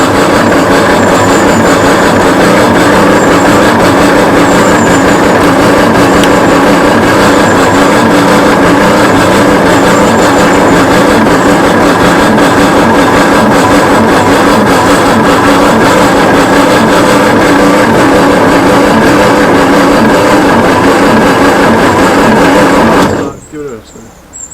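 A Commer Superpoise lorry's straight-six engine cranks over steadily on the starter for over twenty seconds, a loud continuous churning drone without catching, before cutting off abruptly at the end.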